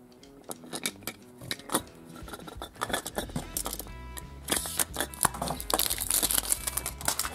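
A metal Technopark surprise tin holding a toy military vehicle is opened by hand, with irregular crinkling, scraping and light metallic clinks that grow busier and brighter toward the end.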